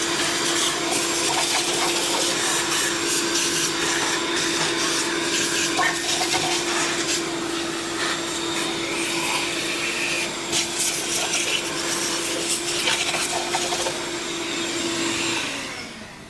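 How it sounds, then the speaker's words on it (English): A shop vacuum cleans debris off a V6 cylinder head, a loud, steady whine that runs close and continuous with some rattling of particles, then winds down at the end. "Get it vacuumed off."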